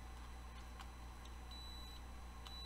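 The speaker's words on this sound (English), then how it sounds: "you'll get your beeps when you turn your remote on" A few short, faint electronic beeps from a Cheerson CX-10D drone remote control spaced irregularly over a quiet hum, small and close like a handheld device chirping.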